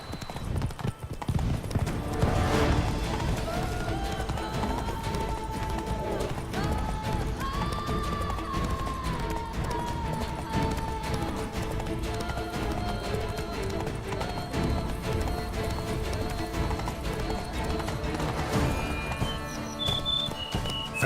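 Roach, Geralt's horse in The Witcher 3, gallops in Toussaint with a steady, close, rhythmic clip-clop of hooves over a bed of orchestral music, with a brief whinny and shouting voices in the mix.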